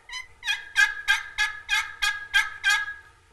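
A double-sided box call works out a run of about nine evenly spaced turkey yelps. The series is close, clear and loud, with no other sound around it.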